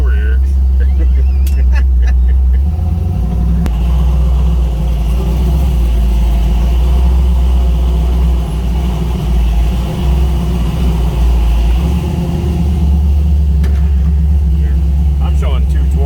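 A project car's engine rumbles steadily and close, a deep continuous drone with slight swells as it is driven on a rough driveway, with voices faintly present underneath.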